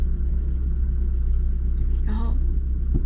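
A manual-transmission car idles with a steady low engine rumble while it is shifted into first gear to pull off; someone talks over it and a brief squeak or creak rises near the end.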